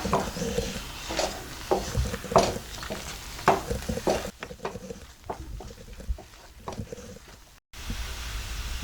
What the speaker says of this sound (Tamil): கொத்தமல்லி தலையும் சேர்த்து நல்லா கிளறி விட்டுக்கலாம்